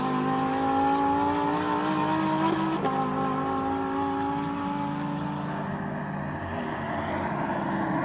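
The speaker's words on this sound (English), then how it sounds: "This is Jimbo Giancarlo in the Audi R8 GT4" An Audi R8 GT4 race car powers up the Simola hillclimb, its loud engine note holding steady then dipping sharply at a gear change before climbing again and fading slightly as it pulls away.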